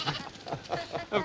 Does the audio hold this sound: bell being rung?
no